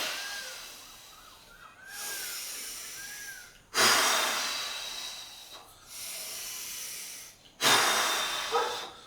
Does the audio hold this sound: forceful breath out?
yes